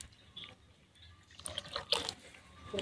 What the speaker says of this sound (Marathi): आता आपल्याला जेवढी भाजी पाहिजे तेवढं पाणी टाकायचं आहे